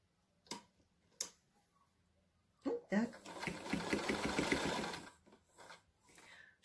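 A sewing machine stitches a round napkin rug, one short burst of rapid, even needle clatter after a few isolated clicks, fairly quiet, with soft handling sounds around it.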